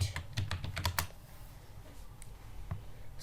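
Fast keystrokes clatter on a computer keyboard in a quick burst during the first second, then a few scattered, fainter key taps follow in a quiet room.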